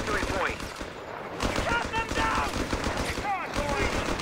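Rapid bursts of MG42 machine-gun fire in the strategy game Company of Heroes 3, layered with other battle gunfire and a commentator's voice talking throughout.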